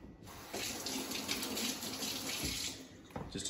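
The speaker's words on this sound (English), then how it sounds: "Give it a rinse" Tap water runs steadily into a sink while ginger root is rinsed under it, a close, continuous gushing flow with slight changes as the stream is interrupted, and no voices.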